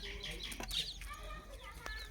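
Native country chickens cluck in short, soft, scattered calls with a few higher squawks, fairly faint against a low background hum and no talk.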